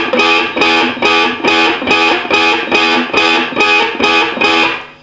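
Distorted electric guitar riff repeated in a steady, driving rhythm of about nine chugging strokes, loud and close, with no vocals.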